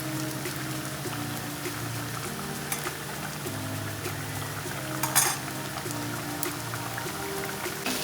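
Fenugreek seeds, shallots and dried red chillies frying in a little oil in a pan, a steady soft sizzle running throughout with occasional stirring scrapes and a brief clatter near the middle, under quiet background music.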